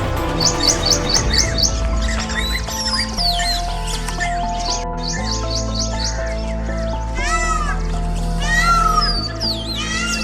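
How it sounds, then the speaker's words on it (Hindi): Mixed birdsong in the Sariska forest, rapid repeated chirps and trilling whistles over a layered, sustained tonal background, fairly loud and continuous with no talk. "जंगल में विभिन्न पक्षियों का मधुर संगीत मन को प्रसन्न कर देता है।"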